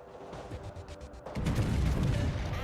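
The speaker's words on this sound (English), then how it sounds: "North Carolina firing HE." Battleship North Carolina fires high-explosive shells in World of Warships: a deep, heavy boom breaks in partway through and leaves a sustained low rumble of naval gunfire under lighter distant battle noise.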